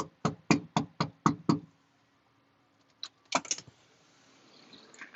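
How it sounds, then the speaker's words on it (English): Seven quick, loud knocks on a door in a steady rapid rhythm, then a pause, a single tap and a short cluster of rattling knocks or handling sounds before quiet. "so I'm gonna go knock on her door."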